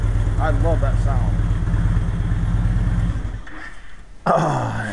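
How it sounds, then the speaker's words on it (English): An engine fitted with a NASCAR 6 aftermarket exhaust rumbles with a deep, throbbing idle, fades briefly, then returns louder as a voice talks over it. "NASCAR 6 exhaust. Very good way to go."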